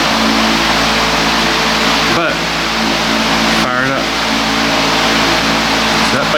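A carbureted motorbike engine runs steadily and loudly up close, with a continuous rough drone and a couple of brief dips in pitch, and no clear talking over it.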